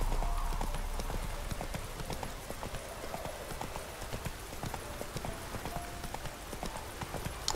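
A horse trots and gallops in The Witcher 3: Wild Hunt, steady rhythmic hoofbeats clopping over a soft ambient wash, moderately close and continuous throughout.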